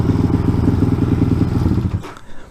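A motorcycle engine idles steadily in neutral with a rhythmic, throbbing thump and mechanical clatter close by, then cuts off abruptly near the end.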